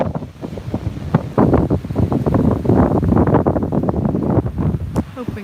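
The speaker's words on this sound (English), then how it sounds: "It's amazing watching the wind." Strong wind gusting across a beaver pond, a loud rumbling buffet on the microphone that surges and eases continuously for several seconds, with no clear voice over it.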